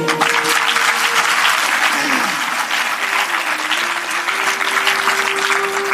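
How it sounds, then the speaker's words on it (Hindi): Audience at a devotional religious discourse applauding, dense steady clapping from many hands that fills the whole stretch at high level, with a voice faintly audible underneath. "आपने ताली क्यों नहीं बजाई?"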